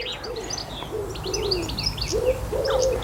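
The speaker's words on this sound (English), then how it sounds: "It's a very noisy blackbird. We've got a song thrush as well singing in the background" Birdsong fills a garden: a loud blackbird's fluting phrases repeat close by, while higher, thinner song from a song thrush carries on in the background.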